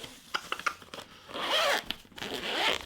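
A heavy-duty waterproof zipper on a thick ripstop nylon canvas solar panel pouch is pulled open, giving a near, rasping run of zipper teeth after a few scattered handling clicks, with a second pull toward the end.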